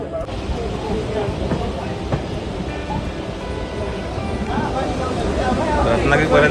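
A Janshatabdi train on the Konkan Railway rolls steadily along the tracks, a continuous rumbling roar with rhythmic clatter of wheels, growing slightly louder toward the end, with muffled voices beneath.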